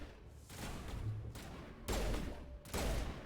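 Gunfire during a firefight in the video game Mass Effect on Insanity difficulty: a dense, steady wash of shots with two louder bursts near the end, no talk over it.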